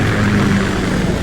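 A KA-60 Kasatka Kamov helicopter in Metal Gear Solid 2, a loud, close, steady rotor and engine drone held throughout without a break.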